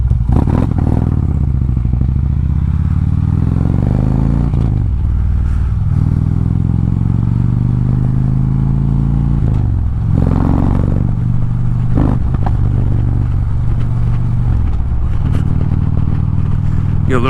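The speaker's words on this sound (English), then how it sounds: "Get a little backfiring action going there. It's that D-cell pop, you know?" A motorcycle on a road ride rumbles and revs up and down through gear changes, with several sharp backfire pops standing out near the middle and end of the run.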